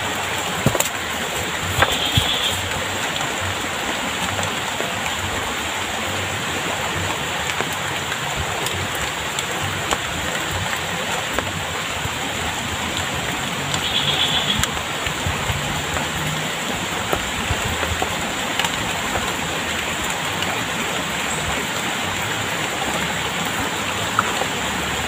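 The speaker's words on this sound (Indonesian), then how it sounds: "Aduh, hujan." Steady rain falls on a riverbank during mahseer fishing, a dense, even hiss of drops that continues unbroken throughout with no voices, fairly close and moderately loud.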